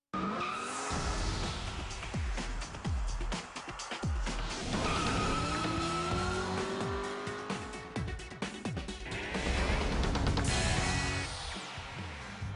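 Pontiac G8 GXP V8 sedan driven hard at Roebling Road Raceway in Savannah, Georgia: loud engine revving and shifting through gears with sustained tire squeal, continuous and close.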